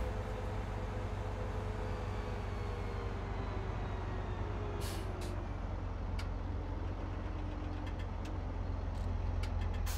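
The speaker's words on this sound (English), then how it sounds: "It gives us a nice heavy tractor to be pulling our plow with." A heavy tractor in Farming Simulator 17 drones steadily as it pulls a plow, its deep engine rumble constant throughout with a few faint clicks and ticks over the top.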